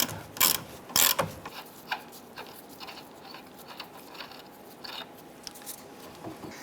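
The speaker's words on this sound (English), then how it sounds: "we want to go ahead and loosen this nut. We'll go ahead and remove the nut" A ratchet loosens a nut on the rear suspension of a 2005-2010 Chrysler 300 during a coil spring replacement. Two loud clanks open, then rapid clicking pawl strokes follow at close range, with no talking.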